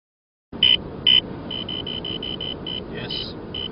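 A Cobra radar detector sounds a Ka-band alert while driving past a mobile speed camera: a series of short, sharp electronic beeps, two louder ones followed by a rapid run of quieter repeated chirps, over steady car cabin noise.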